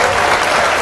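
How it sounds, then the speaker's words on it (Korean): Audience applause in a math lecture setting: a dense burst of clapping filling the whole short moment, steady and loud without pauses. "박수."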